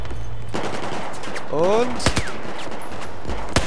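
Bursts of gunfire crack through a Battlefield 4 match, several sharp shots spread across a few seconds amid game effects, with a brief spoken word.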